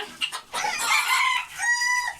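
In a poultry yard during the morning release, older chickens cluck busily close by and a rooster's crow rings out near the end, loud and alone, with no talking over it.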